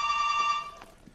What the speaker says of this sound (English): Why, my phone's ringing.